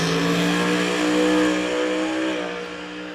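A drag race car on boost at the Rocky Mountain Nationals roars loud and sustained at full throttle, its engine note steady and then fading slightly as it pulls away from the line.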